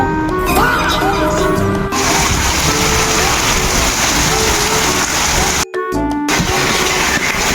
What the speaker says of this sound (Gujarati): આ સિઝનનો પહેલો વરસાદ ચોતરા કાઢી નાખ્યો હોય.